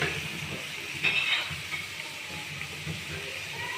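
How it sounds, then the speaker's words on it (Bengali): Potatoes and onions fry in a pan with a continuous hissing sizzle and a few light stirring scrapes, heard close at moderate volume. "আলু পেঁয়াজ ভাজছি"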